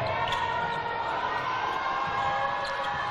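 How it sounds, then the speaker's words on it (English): A netball crowd in South Africa's match against Namibia gives a young goal attack player a standing ovation, a dense, steady wall of applause and cheering that holds at full level throughout. "The applause, the standing ovation for this young player on that goal attack position for South Africa"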